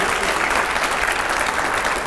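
An audience applauds at a televised panel discussion with Nitin Gadkari and five editors, ahead of a rapid fire round. A dense, even burst of many hands clapping stays loud and steady for a couple of seconds.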